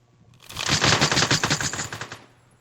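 Rapid automatic gunfire from the video game One Armed Robber, a dense rattling burst of shots lasting about two seconds, loud and close, with no talking over it.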